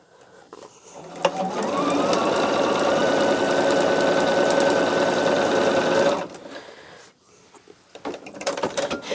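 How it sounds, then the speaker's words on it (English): A sewing machine runs steadily for about five seconds, stitching fabric pieces together around the edge at a quarter-inch seam for a mini quilt project, then stops, followed by faint handling noises. "You put right sides together and you sew all the way around at 1/4 of an inch."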